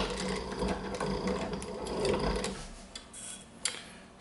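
A walking-foot leather sewing machine driven by a servomotor stitches leather in a fast, steady close-up whir of needle strokes for about two and a half seconds, then stops, leaving faint handling clicks and rubbing.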